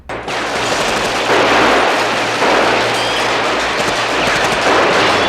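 Dense, continuous movie gunfire from Scarface, with blanks firing in rapid automatic bursts and heavy booming explosions, loud and sustained throughout, with no talking.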